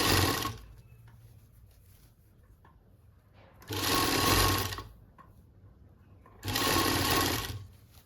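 Sewing machine stitching lace onto the edge of a dupatta, running in three short loud bursts of rapid stitching separated by quieter pauses with faint handling noises, close up.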